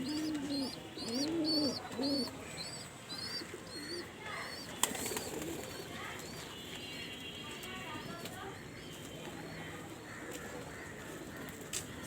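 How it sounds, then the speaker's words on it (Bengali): Pigeons coo on a rooftop, with soft repeated low coos and a higher bird call near the start, then a sharp knock and quieter outdoor ambience, with faint talk in the background. "এই যে আমাদের কবুতর এখানে, এই দেখেন কবুতরের বাচ্চা দিছে।"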